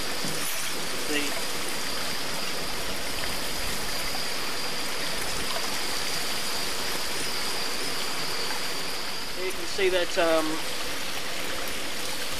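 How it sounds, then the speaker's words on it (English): Water drains out of a waste pipe in stormy conditions with a steady, stream-like rushing flow throughout, while a person speaks briefly near the end. "waste pipe there that's flowing out, the water that's draining out, and it's really coming out there"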